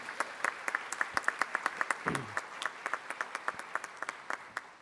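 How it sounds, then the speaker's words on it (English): A small gathering at an education awards celebration gives a quick round of applause for volunteers: sparse, distinct claps in a fairly even rhythm, fairly quiet and in a roomy space, with a brief low voice murmur midway. "give everybody who's volunteered to do that just a quick round of applause"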